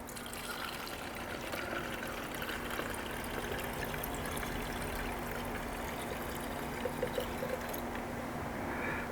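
Water trickles and drains steadily from a fuel filter jar, a continuous liquid stream heard close up on its own.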